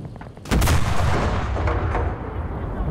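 In the Enlisted video game, a T-34-85 tank cannon lets off a loud, sharp blast at close range, and the heavy boom rolls on into a long, rumbling decay that holds under the background battle noise.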